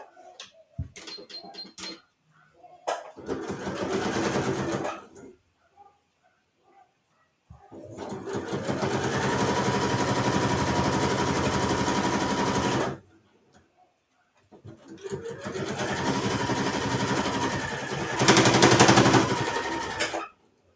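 A sewing machine runs in three long bursts, stitching the seam of a drawstring bag with a wider seam allowance, its rapid needle whir steady and close, separated by short pauses and faint handling sounds.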